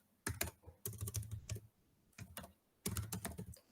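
Keys clatter on a computer keyboard in close, quick bursts of typing separated by short pauses, light and crisp with no voices.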